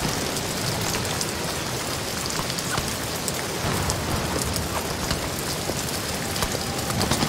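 Steady, heavy rain pours down in the survival horror video game Amnesia: The Bunker, a dense, continuous hiss of falling drops with scattered sharper patters and no pauses.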